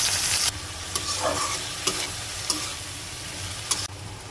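Chopped bottle gourd peel and mixed vegetables hit hot oil tempered with dried chillies and nigella seeds, giving a steady close sizzle and fry with a few sharp scrapes of stirring.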